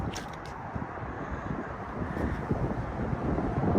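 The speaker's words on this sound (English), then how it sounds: "Sorry about the road noise next to the highway." Steady traffic from a nearby highway makes a broad, continuous rushing roar, with some wind buffeting the microphone, heard outdoors beside a parked 2020 Thor ACE 30.2 Class A motorhome.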